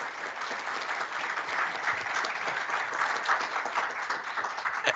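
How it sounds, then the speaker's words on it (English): Steady audience applause for four presenters at a ship electrification session, a dense wash of many hands clapping at even volume throughout. "I would like to ask the audience to give a big round of applause to all the four"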